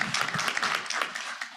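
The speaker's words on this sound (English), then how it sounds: "A round of applause." An audience breaks into brief, dense applause after a talk at a presentation, a close wash of many hands clapping that fades slightly toward the end.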